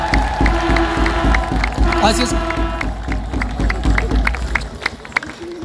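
A congregation at an Ethiopian Orthodox church inauguration for St. Tekle Haymanot claps and cheers in a loud, crowded burst of rhythmic hand claps and shouts, while an amplified voice speaks over the celebration.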